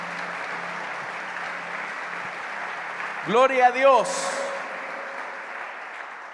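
A church congregation claps together during a service, a steady wash of applause running throughout, briefly overlaid by a voice speaking through it before the clapping continues.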